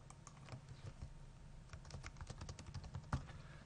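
Computer keys are tapped in quick, uneven bursts while code is typed. The clicks are faint and close, with one sharper keystroke near the end and no talking.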